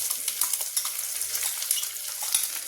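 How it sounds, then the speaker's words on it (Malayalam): Grated coconut fries in coconut oil with mustard seeds and dried red chillies in a pan, a close, steady sizzle scattered with sharp little crackles and pops, with no one talking. "ഒരു ബ്രൗൺ കളറാകുന്ന വരെ തേങ്ങയൊന്ന് വറുത്തെടുക്കാം"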